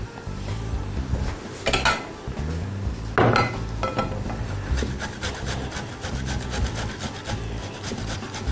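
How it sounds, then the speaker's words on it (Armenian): A lid clatters onto a pot of liver set to stew, with a couple of sharp metallic knocks and scraping rubs of cookware, close and fairly quiet with no talk. "Հենց այս պահին ծածկում ենք կափարիչով, որ խաշվի"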